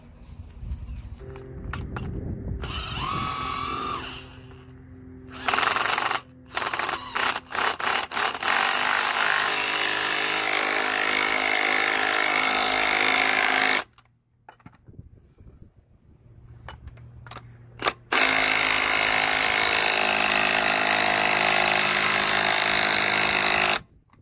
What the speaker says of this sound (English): This is a 19mm nut. So just gonna drive that in.